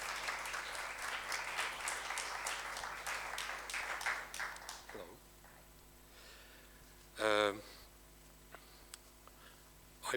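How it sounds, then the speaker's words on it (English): Brief applause greets Italian war reporter and author Francesca Bori at the opening of the Polip festival readings, a burst of clapping that fades out, followed by quiet with a short noise near the end. "Applause for Francesca."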